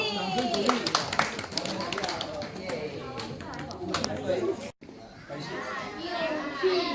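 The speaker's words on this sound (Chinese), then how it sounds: "好，掌声鼓励" A group of children clap together on a school outdoor outing, bright overlapping claps mixed with chatter and kids' voices, then a brief dropout before lively talking and movement resume.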